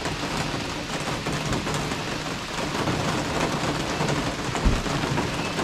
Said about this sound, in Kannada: ಇಲ್ಲಿ ನೋಡಿ ಹೆಂಗ್ ಮಳೆ ಬರ್ತಾ ಇದೆ.